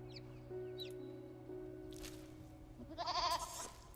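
A goat bleats in the fantasy game Skyrim, a wavering cry toward the end, heard faintly over a quiet game soundscape with a steady hum and scattered small sounds.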